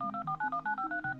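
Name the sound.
telephone keypad dialing tones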